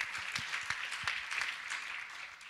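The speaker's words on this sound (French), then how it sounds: "Je souhaiterais qu'on les applaudisse" Audience at a French conference introduction applauding, a dense steady patter of many hands clapping at moderate volume throughout, with no talking.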